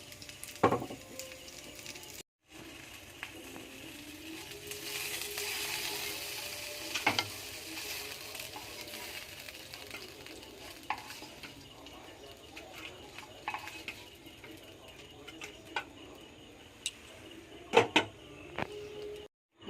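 Fish fries in a pan on a home stove with a continuous low sizzle, broken once by a short silence and punctuated by occasional clinks and taps of utensils, close and without talk.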